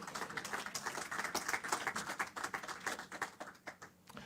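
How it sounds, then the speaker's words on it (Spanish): A church congregation applauds together, rapid irregular clapping from many hands that swells and then thins out toward the end, with no speech. "¿Cuántos le dan un aplauso al Señor?"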